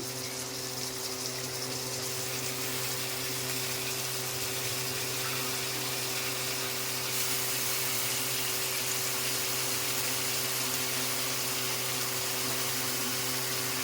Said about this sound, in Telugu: నీట్గా కడుక్కోవాలి నీట్గా